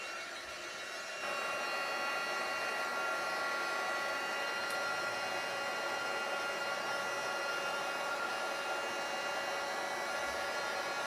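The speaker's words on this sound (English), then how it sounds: "My advice when heat embossing is to hold the heat tool about an inch away." A heat tool blows on cardstock for heat embossing with a faint, steady whooshing hiss. The hiss starts a second in and holds evenly to the end, with no voices.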